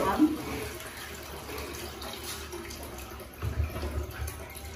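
Rice being washed with water in a home kitchen in Jaffna: soft, steady sloshing and trickling water, fairly quiet, with a brief louder swirl near the end.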